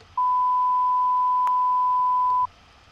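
A single steady sine-wave test tone run through a console emulation plugin, a clean pure beep holding for about two seconds then cutting off, alone over a faint noise floor.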